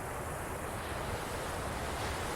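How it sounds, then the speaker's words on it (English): Ocean surf rolls in a steady, continuous wash of waves with a broad hiss, some wind noise against the microphone, and no voices. "amazing ocean."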